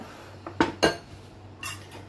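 A metal kitchen bowl set down for cooking a peanut-onion bhaji snack, two quick close clanks followed by a lighter clink, with quiet room tone between.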